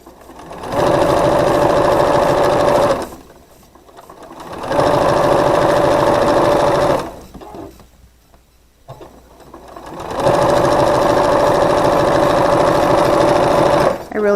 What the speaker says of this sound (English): I'm going to flip this over and I'm going to sew it one more time